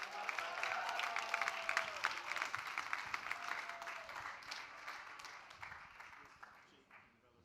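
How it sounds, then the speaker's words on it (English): Audience applause welcoming a Microsoft Excel team manager onstage at the Excel World Championship finals, a dense wash of clapping that starts loud and fades steadily toward the end, with some voices mixed in. "Give a round of applause for Joe McDade."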